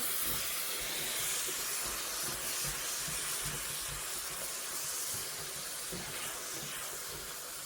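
Liquid poured a little at a time into a hot jambalaya pan gives a steady, loud steamy hiss that holds throughout without pause, no talking over it.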